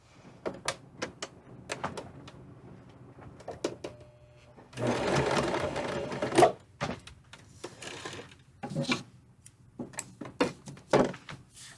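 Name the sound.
sewing machine stitching fabric pouch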